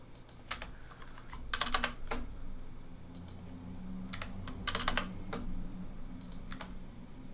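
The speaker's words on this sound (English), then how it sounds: "I'm just clicking Shift, and I'm clicking Enter twice, so it makes the paragraph a little bit bigger" Typing on a computer keyboard while composing an email, with clusters of rapid key clicks in two distinct bursts and sparser single presses such as Shift and Enter between them, close and clear over a low steady hum.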